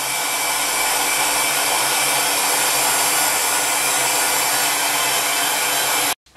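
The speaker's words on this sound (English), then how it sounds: "Then you'll bring over your hair dryer or your heat gun again." A hair dryer blows loud and steady at close range over polymer clay, a continuous broadband whoosh that cuts off abruptly near the end.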